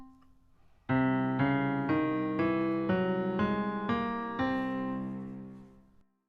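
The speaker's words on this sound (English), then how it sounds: "play them all in a row with a drone on the tonic note for reference" A steady low drone holds beneath a series of single notes stepping one after another in an even rhythm, each freshly struck, ending in a fade.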